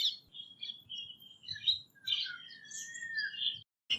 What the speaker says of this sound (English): a variety of birds such as the Kingfisher, Barbet, Myna, Starling, Parakeet, and many more are drawn to it.